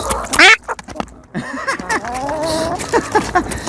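Several close, raspy duck quacks over a steady run of busy, wet gabbling and feeding noises, with a few louder squawks near the start.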